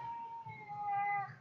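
A house cat gives one drawn-out, wavering meow lasting over a second, close and fairly quiet, with nothing else around it.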